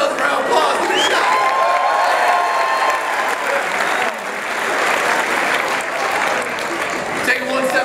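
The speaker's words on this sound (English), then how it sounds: "Give yourself a round of applause." A stage audience at a motivational event with a comedian breaks into loud, sustained applause mixed with cheering and whoops, a thick wash of clapping that holds steady throughout with voices shouting within it.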